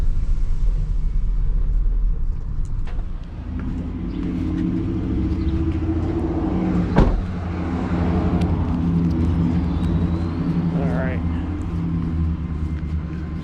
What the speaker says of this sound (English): Hear the garbage truck. You might be able to hear in the background.